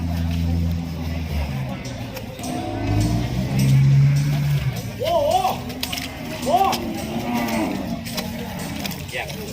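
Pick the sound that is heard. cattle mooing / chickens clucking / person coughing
cattle mooing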